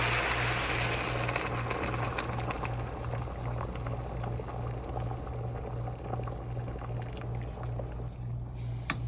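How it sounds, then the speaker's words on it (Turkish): Hot water is poured over keşkek ingredients of soaked chickpeas and grain in a pot, a continuous close rushing, bubbling sound of liquid with a steady low hum underneath, lasting throughout with no talk. "Üzerine de sıcak su ekleyeceğiz"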